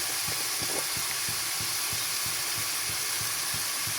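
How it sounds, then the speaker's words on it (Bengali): Spices with garam masala frying in a pan, a steady hiss of sizzling oil with soft rhythmic stirring knocks throughout, close and continuous with no voices. "দিয়ে এখানে মশলাটাকে আমি একটু কষাই নেব"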